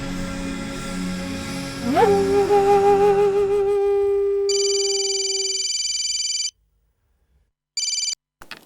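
A phone call connects with electronic tones, then a loud, steady ringing tone sounds, cuts to silence, and rings briefly once more.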